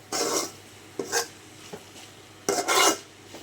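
A spatula stirring drumstick leaves poriyal in a pan: three bursts of rasping scraping, a short one, a quick double, then a longer sweep, close and alone against a low steady hum.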